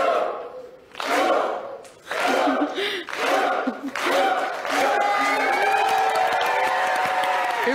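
Family audience in a Persian children's TV studio show joining an Icelandic Viking-style clap chant: a few spaced, loud group claps and shouts building into sustained cheering and whooping from a nearby crowd.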